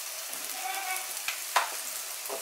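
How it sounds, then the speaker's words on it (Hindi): A little oil sizzling on a hot tawa for chicken kababs, a soft steady hiss with a couple of brief sharper crackles, no speech. "थोड़ा सा तेल तवे पे डाल दें"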